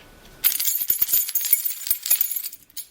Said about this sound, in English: So there's a bell attached to the door, so it would ring every time it's opened.